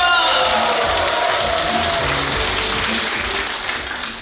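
Sustained crowd applause from an audience at a Korean seniors' festival, a steady dense clatter of many hands that holds for several seconds before tapering slightly at the end, with a faint voice underneath.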